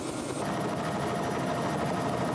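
A helicopter waiting near a darted buffalo on a wildlife capture, its rotor and engine a steady, loud throbbing drone with no break.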